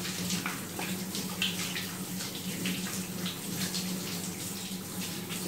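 Water running from a tap rinses soap off a Norwegian Forest Cat during a bath, a steady close splashing flow without pause and no talk.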